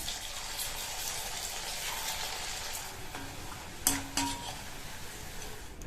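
Slices of raw plantain fry in hot oil with a dense, even crackle, while a couple of metal utensil clinks and scrapes ring out near the pan partway through.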